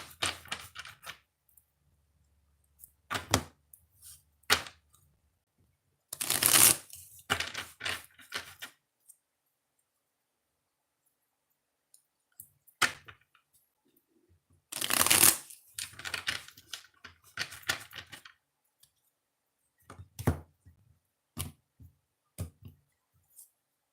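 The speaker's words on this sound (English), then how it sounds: "Let's do 3 shuffles and then we'll ask the question." Tarot cards being shuffled by hand, a series of quick, crisp riffling and slapping bursts separated by silences, close and distinct, with two longer riffles standing out.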